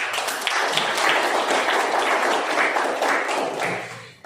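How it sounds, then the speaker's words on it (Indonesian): A classroom audience claps together in a dense, steady burst of applause that thins out toward the end. "Baik, berikan aplaus buat"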